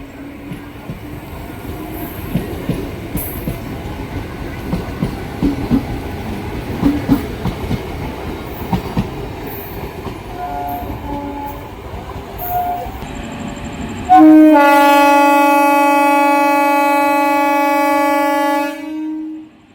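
A MEMU passenger train departing Kasimbazar station from platform three rumbles and clatters along the rails, then a loud, steady horn blast sounds for several seconds near the end before cutting off.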